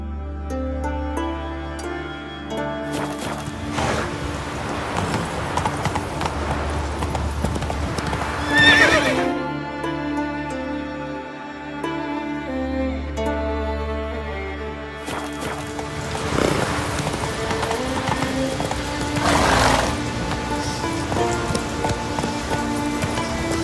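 A horse gallops in The Witcher 3 video game, with rapid, loud clip-clop hoofbeats over a musical score and several neighs and whinnies along the way.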